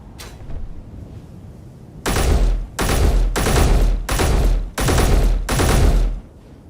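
Gunfire in the Space Engineers video game, loud automatic bursts in five or six chunks of about half a second each, closely spaced and close up, after a quieter stretch with no talking.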